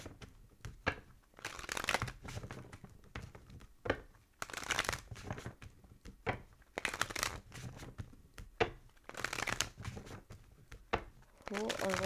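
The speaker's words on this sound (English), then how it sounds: "Three more shuffles. One more, and then we're gonna cut." A deck of cards is shuffled in repeated bursts of crisp riffling and flicking, close and fairly loud, alternating with a person speaking between shuffles.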